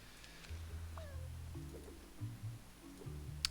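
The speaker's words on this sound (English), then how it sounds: "Did you know that Sebi can meow in 10 different cat languages?" Sebi, a cat in a video game, gives a few short, quiet meows over a soft electronic background tone, with no one talking.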